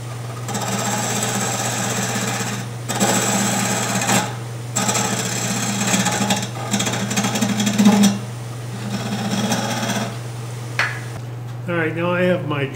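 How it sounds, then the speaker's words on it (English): A loud, steady power drill grinds into wood, drilling out the center of a wooden vessel, cutting in and out in bursts over a constant motor hum, close up with no talking. "First thing I need to do is drill out the center of my vessel."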